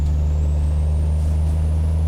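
Peterbilt 389 truck engine droning low in the lower gears in American Truck Simulator, a loud, steady, deep hum heard alone, with a faint high whine above.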